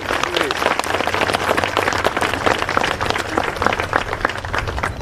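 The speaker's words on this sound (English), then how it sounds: "how about one more round of applause for Heather?" An audience at a military change of command ceremony applauds for Heather, a loud, steady crackle of many hands clapping with faint voices mixed in.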